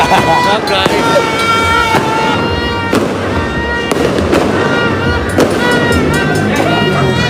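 Loud New Year fireworks burst repeatedly in a close, continuous barrage of sharp bangs and crackles, with voices faintly mixed in beneath.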